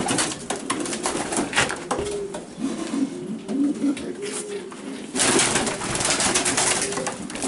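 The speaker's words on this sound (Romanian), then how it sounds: "aici avem o pereche de porumbei de viteză și de nifon" Several racing pigeons coo softly and repeatedly nearby, their low rolling calls overlapping against a noisy background.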